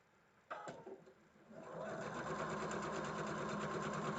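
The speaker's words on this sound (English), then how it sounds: "now I'm sewing on the line" A sewing machine runs along a seam on a quilt block, starting with a few close clicks and then settling into a steady, quiet mechanical whir.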